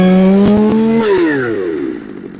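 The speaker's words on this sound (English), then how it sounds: "And back down to idle, and the chain shouldn't be spinning with the chain brake off" A carbureted chainsaw engine runs at a high, steady buzz, then its pitch slides down as it drops back to idle, loud and close, with no talk.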